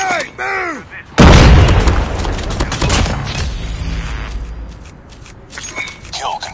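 A grenade blast in Call of Duty Mobile bursts loud and close with a deep boom that rumbles and fades over several seconds, preceded and followed by shouted in-game voice callouts and scattered mechanical clatter.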